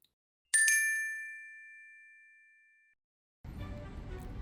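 A bright, clear notification ding for an incoming text message rings once and fades slowly over a couple of seconds, followed after a short silence by faint low background noise.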